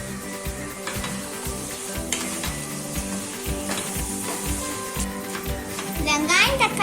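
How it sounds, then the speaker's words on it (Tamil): Onion and tomato with turmeric sautéing in a pan for radish curry, a continuous sizzle broken by repeated stirring scrapes, with a voice and household noise in the background. "வெங்காயம் தக்காளி நல்லா வதங்கி வரணும், அது வரைக்கும் வெயிட் பண்ணலாம்."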